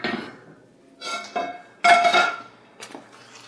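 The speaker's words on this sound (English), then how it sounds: "Now, I've got my frying pan here." A frying pan is set down and moved around on a stove, giving several separate metallic clanks and scrapes with quiet gaps between them, close by and fairly loud.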